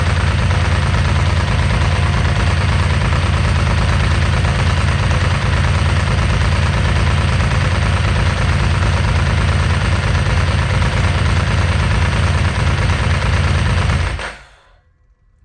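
A Ducati 999 superbike engine idles loudly and steadily up close. Its lumpy, pulsing rumble goes on without break for about fourteen seconds, then cuts off abruptly to silence.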